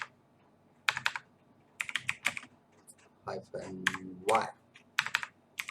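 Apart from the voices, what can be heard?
typing on a computer keyboard to run npm init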